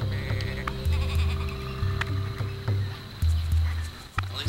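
A sheep in the video game Tak and the Power of Juju bleats repeatedly, a string of short nasal bleats in uneven rhythm over a steady game soundtrack hum.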